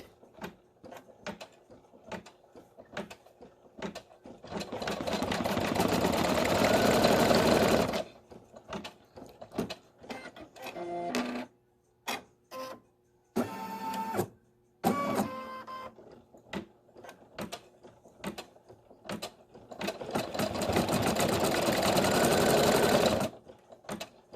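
An embroidery sewing machine working decorative appliqué stitches on a felt fascinator hat: long stretches of fast, loud whirring alternate with slower, ticking single stitches and short motor bursts, close and uninterrupted by talk.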